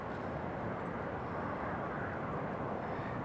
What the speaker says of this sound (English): Yeah, it's a little Cessna